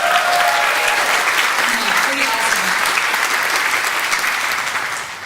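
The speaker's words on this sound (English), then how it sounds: "She'd be embarrassed by that amount of applause" Sustained applause from a large commencement audience at a university business school graduation ceremony, steady and dense throughout and fading slightly at the end, with a brief spoken remark over it.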